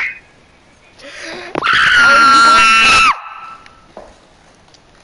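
A person on a livestream screams loudly into a microphone, a single shrill, sustained scream of over a second that clips and distorts, with faint talk before and after it.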